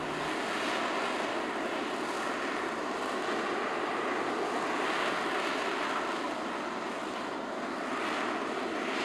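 A loud, continuous jet engine roar from an AV-8B Harrier II hovering at an air show, with a broad rushing hiss that swells and fades slightly, steady and unbroken with no voices.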